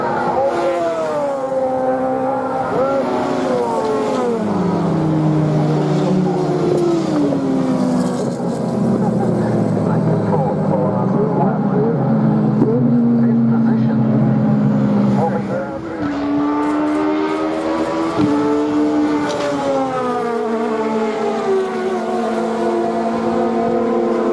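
Sports race cars roar past at Lakeside Raceway with loud, sustained engine notes that rise and fall as they go by, under continuous commentary.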